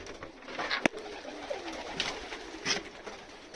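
Young pigeons sit inside an old pigeon loft, giving soft, fairly faint coos in a few separate calls, with light rustling around them.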